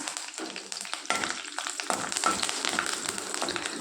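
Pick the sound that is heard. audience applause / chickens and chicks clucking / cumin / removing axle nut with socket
cumin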